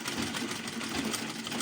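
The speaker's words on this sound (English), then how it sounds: "So we are on the sewing machine now." Sewing machine stitching socks, a steady close mechanical whir with a fast rhythmic tick, continuous and alone throughout.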